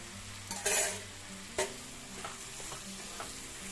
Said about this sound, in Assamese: লোৱাৰ পিছত ইয়াতে আলু আৰু বেঙেনাখিনিও দি দিলোঁ।